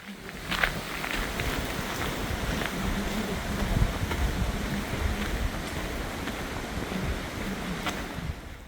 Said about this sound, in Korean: 길 왼쪽으로 맑은 계곡물이 흘러서 물소리를 청량하게 들으며 걸을 수 있는 멋진 코스입니다